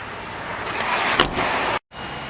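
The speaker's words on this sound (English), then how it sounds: "Very heavy doors." Heavy doors of a 1999 Chevrolet Suburban close, with one solid thud standing out over a steady background hum, followed by a brief drop to near silence.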